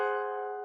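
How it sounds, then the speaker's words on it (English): An Italian augmented sixth chord rings out as a single sustained chord, struck once and fading gradually over less than a second, clear and alone. "The Italian 6 sounds like this,"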